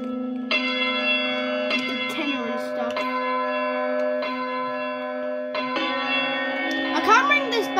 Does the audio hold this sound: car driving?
no